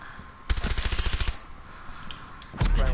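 Rapid automatic gunfire in Rainbow Six, a close loud burst of about a dozen evenly spaced shots, followed by a pause and another sharp blast.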